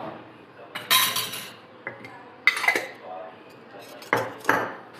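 Cabbage bhaji batter being mixed with chili sauce and Schezwan chutney in a bowl, with intermittent clinks and scrapes of a spoon against the bowl in short bursts, with no one speaking.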